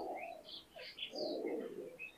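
High flyer pigeons coo softly at close range, a few short murmuring calls with light chirpy notes between them, faint over a quiet room.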